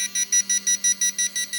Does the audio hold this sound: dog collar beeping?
yes